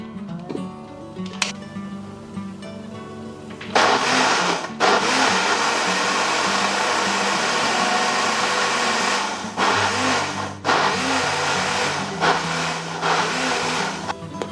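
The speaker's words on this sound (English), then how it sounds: "This is a Breville blender, and we're going to use it to blend the" A Breville blender whirs steadily at high power blending berries for most of the stretch, its motor pitch shifting and pulsing briefly as it chops, then running on loud and close.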